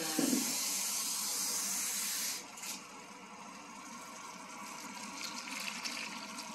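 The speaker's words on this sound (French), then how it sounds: "Je vais rajouter de l'eau" Water pours in a steady hissing stream onto white corn flour for a porridge, then stops, leaving quieter sloshing and stirring of the liquid.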